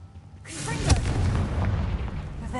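A Confringo fire spell from Hogwarts Legacy lands with a booming blast that swells and then rolls on as a sustained roar for about two seconds, with a brief voice at the start.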